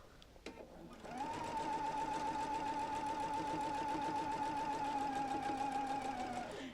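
Sewing machine stitching quilt pieces for a double wedding ring quilt, a steady close mechanical hum and rapid needle rattle running continuously for several seconds after a few brief clicks at the start.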